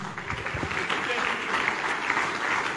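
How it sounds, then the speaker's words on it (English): Audience clapping in welcome for Peter Obi at a public event, a dense wash of applause with voices mixed underneath. "please keep clapping, keep clapping"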